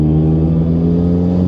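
The HKS-turbocharged Toyota GR86 engine runs under steady acceleration from inside the cabin, a loud continuous droning hum that holds without pause for a brief moment.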